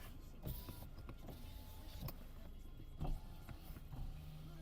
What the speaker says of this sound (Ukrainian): Склопідйомники в нас працюють.